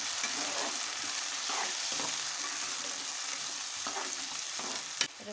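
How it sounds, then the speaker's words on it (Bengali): A ginger, garlic and onion paste sizzles steadily in hot oil with browned onions for a chicken curry, with soft scraping and stirring strokes in the pan. "আদা রসুন পেঁয়াজ সব পেস্ট করেছিলাম, এটাই ঢেলে দেবো"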